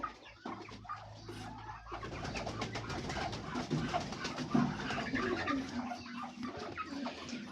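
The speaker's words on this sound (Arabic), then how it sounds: "بصوا الحمام نزل كله جوه اهو" Pigeons coo and murmur steadily in a farmyard pen, with clucking fowl mixed in. The birds sound close and fairly quiet, and there is a continuous low bustle throughout.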